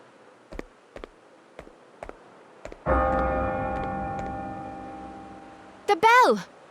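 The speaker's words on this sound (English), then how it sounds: "The bell!" A bell rings in the video game Bravely Default 2. Several sharp ticks come first, then one loud, resonant strike that rings out and slowly fades over a few seconds. A brief voice follows at the end.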